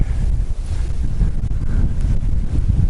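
A strong headwind buffets the microphone among open fields of moving trees and barley, a dense, steady low rumble with gusty swells throughout.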